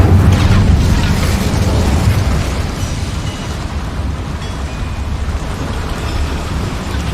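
A Hogwarts Legacy Incendio fire spell erupts inside a mine as a loud, roaring whoosh that rumbles steadily and slowly fades into a sustained crackling roar.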